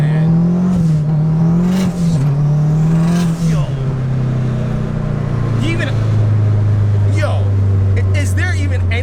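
A turbocharged 1992 Honda Civic SiR with a K20/K24 swap pulls hard from inside the cabin, its engine drone rising and shifting pitch as it accelerates, loud and steady, with people talking over it.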